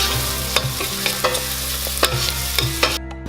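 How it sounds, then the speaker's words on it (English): Garlic, ginger and onion sizzle in a pan under steady frying hiss, with a series of regular spoon scrapes and knocks as they are stirred, close and fairly loud, with no talking. "1 tablespoon of garlic, 1 tablespoon of ginger, and let that fry up with your onion"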